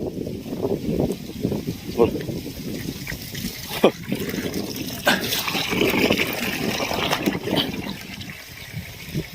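A submersible water pump pushes water through a thirty-metre hose into a cattle trough, giving a steady close trickling and splashing flow throughout, with a person talking over it.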